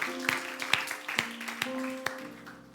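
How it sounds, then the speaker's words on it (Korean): A church youth worship congregation claps for the Lord over a sustained keyboard chord, sparse and uneven claps that ring out a few at a time, fading toward the end. "우리 주님께 영광의 박수 올리겠습니다"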